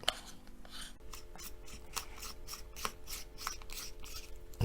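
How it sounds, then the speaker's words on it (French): Threaded metal parts of a Zeus RTA vape tank being unscrewed by hand, a close, quiet series of scratchy rasping twists and small clicks over a faint steady hum. "On va dévisser ça."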